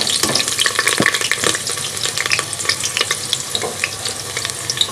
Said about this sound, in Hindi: इस टाइम पे आगे हमारा तेल जो गर्म हो चुका है, ये मेरे पास एक नॉर्मल साइज़ का प्याज से इसके अंदर ऐड कर देंगे।